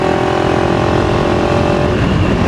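A 2025 KTM 390 Enduro R with a de-catted exhaust and stock muffler revs loudly and steadily, a dense, rasping single-cylinder engine roar filling the short moment close up.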